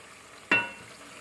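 A spoon scrapes once through beef curry with potatoes in a pot, a short bright clink and stir over a quiet simmering background.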